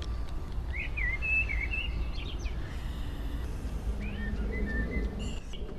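A blackbird sings outdoors at moderate distance, its fluting whistled phrases rising and falling over a steady low background rumble, with a second burst of song later on.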